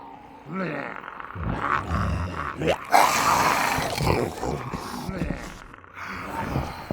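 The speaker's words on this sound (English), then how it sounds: "Zombie Foley. Zombie ADR." Zombie foley for a Resident Evil production: guttural growls, snarls and roaring grunts come in repeated close, loud bursts that rise and fall over several seconds.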